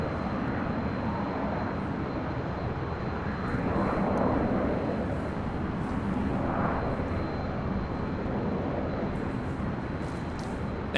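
Jet engines of a Delta Airbus A319 arriving at Los Angeles airport, a continuous wide rumble and hiss at a distance with gentle swells, steady throughout and without voices.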